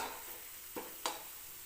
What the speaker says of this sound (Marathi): भाजी आपली छान शिजते